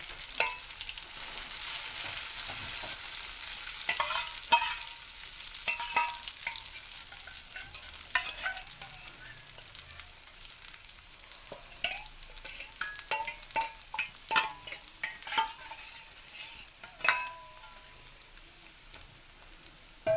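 Potato fries sizzle in a pan while a utensil scrapes and stirs in irregular clicks, steady hiss throughout with no voices.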